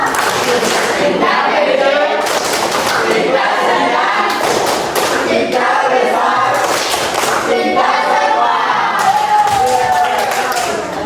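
A group of students performs a rhythmic clapping chant in a classroom setting, loud patterned claps and thumps layered over excited voices and cheering, continuous and dense throughout.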